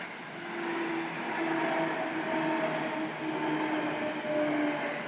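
Train passing through a station in Nakano, Tokyo, a steady rumbling roll with faint squealing tones, fairly close and continuous with no talk.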